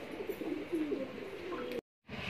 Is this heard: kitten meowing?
no